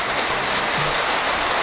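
Steady rain pours down on a high desert homestead, a dense, continuous hiss of drops on surfaces with no voices, heavy and even throughout.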